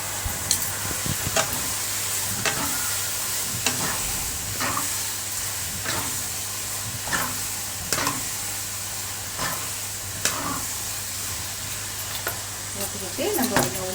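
Marinated prawns frying in a hot pan for a Malaysian prawn kicap sambal masala gravy, a steady sizzle and hiss broken by regular scraping stirs of a spoon against the pan, moderately quiet.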